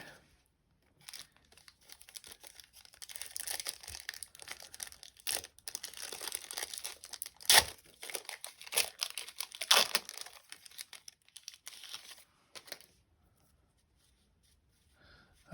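Crinkly wax wrappers on 1990 Score NFL football card packs are torn open up close, with bursts of crumpling and ripping between brief quiet gaps and no speech.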